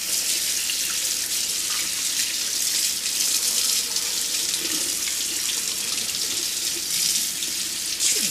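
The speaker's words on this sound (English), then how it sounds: "So let's rinse it off." Steady running tap water pouring over an etched printed circuit board being rinsed in a sink, a continuous hissing splash that stays loud and even throughout.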